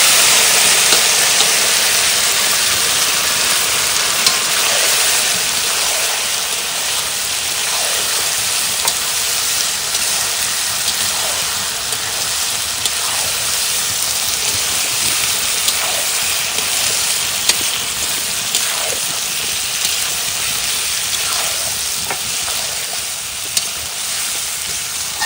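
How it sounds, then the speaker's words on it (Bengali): A fish goes into bubbling hot oil and fries with a steady, loud sizzle and crackle that persists evenly, with occasional spits and stirring noises and no talking. "তেল ফুটে গেছে, এবার মাছটা দিয়ে দিলাম"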